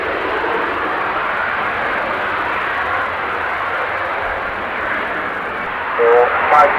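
A display aircraft climbing away at the Farnborough Air Show produces a continuous broad engine roar at moderate distance, with a commentator's voice briefly cutting in near the end.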